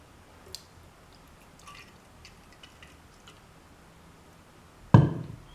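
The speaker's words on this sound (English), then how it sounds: "Pour it into the mold." Melted candle wax poured into a mold, mostly quiet small ticks and drips before a sudden loud wet splash near the end that trails off.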